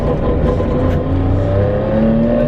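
A small Saab car engine revs steadily at high pitch, its whine rising gradually, loud and close with no voices.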